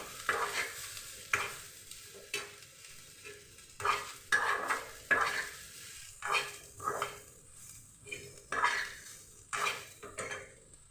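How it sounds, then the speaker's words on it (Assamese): Ajwain and spices dry-roasted in a dry pan on a tawa, rhythmic scraping stirs that repeat about once a second, each a gritty rasp with a faint metallic clink, close and alone without talk. "এইখিনি অকণ শুকান কেৰাহীত এই টাৱাখনত ভাজি ল'লোঁ।"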